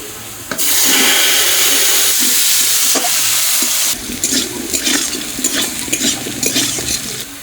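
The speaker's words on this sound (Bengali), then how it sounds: "মাছ ভাজা তেলে এখন আলুগুলো ভেজে নেবো" Potatoes fry in oil previously used for frying fish, a loud continuous sizzle with stirring scrapes and clatters that later settles into a choppier, crackling fry.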